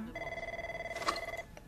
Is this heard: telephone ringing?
yes